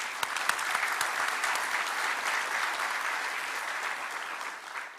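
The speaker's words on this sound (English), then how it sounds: "Big round of applause to you, by the way" Steady applause from an audience at a health, wellness and innovation forum, a dense continuous wash of clapping heard from a distance, fairly faint and even throughout.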